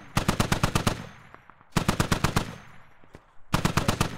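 Heavy machine gun fire in the military shooter game Squad: three rapid bursts of about six or seven loud, close shots each, separated by short pauses with faint echoing tails.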